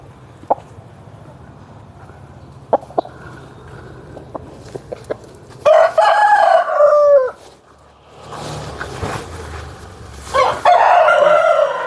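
Nemali and Dega country roosters: one crows loudly twice, long drawn-out calls close by, after scattered faint clucks and taps in a quiet farmyard.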